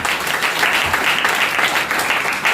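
Loud, dense applause from a congregation at a closing church gathering in Kandukuru, steady and sustained throughout with no pauses.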